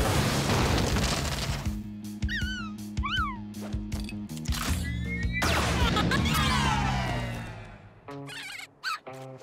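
A cartoon flash fire slug shot: a series of punchy booms and crackling bursts with whistling, rising and falling tones, busy at first, then thinning out into a few sharp pops near the end.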